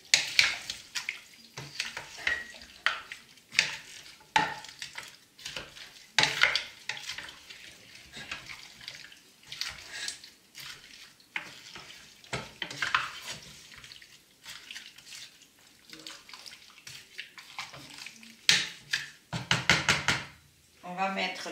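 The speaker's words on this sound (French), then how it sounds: "Et maintenant, il nous faut une cuillère à boire. Voilà, on va bien mélanger." Turkey thigh stew being mixed with a spoon, irregular knocks and scrapes against the pot coming in bursts with wet stirring, up close, with a person talking in between.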